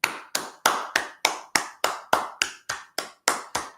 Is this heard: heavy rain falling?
no